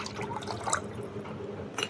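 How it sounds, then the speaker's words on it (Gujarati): A bowl of water poured into gathiya dough, a short splashing trickle with a few drips, close by and fairly quiet. "મેં એક વાટકો પાણી નાખું"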